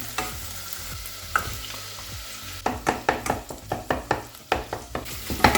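Onions and beef fry in a pan for a Nigerian meat pie filling, with a repeated run of sharp spatula scrapes and taps over a low sizzle that grows busier and more rhythmic partway through.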